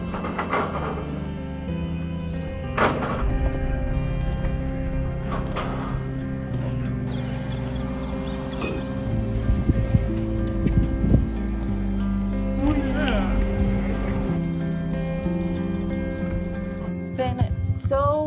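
Rattle of the roller-furling gear inside a sailboat's aluminium mast on a windless hot summer night at anchor, intermittent clunks and rattles recurring irregularly over a low steady hum, with faint voices in the background.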